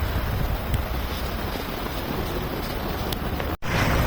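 Strong wind roars steadily during light snowfall, buffeting the microphone with a deep rumble and broadband rush, briefly cutting out near the end.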